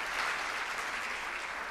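At a plenary investor's forum on fiscal policy and financing for jobs, an audience gives a short burst of steady, moderately distant applause with no voices over it.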